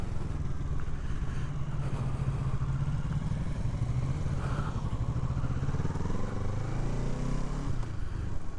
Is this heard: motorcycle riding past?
yes